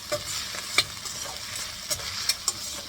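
Crushed green chili thecha fries in hot oil for a capsicum sabzi, a soft continuous sizzle with a few sharp clinks and scrapes of a spoon against the pan.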